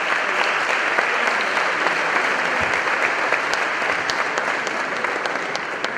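A conference audience gives steady, sustained applause, a dense even clatter of many hands lasting about six seconds without a break.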